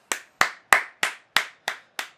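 Applause from a crowd in the FIFA 20 football video game, heard as seven sharp, evenly spaced bursts of clapping, each fading quickly, loud and clear with no talk over them.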